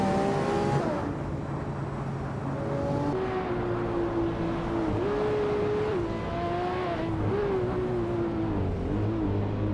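Several racing car engines roar continuously in a racing game, with a prominent engine note rising and falling through gear shifts and revs, loud and close, over a dense bed of other cars.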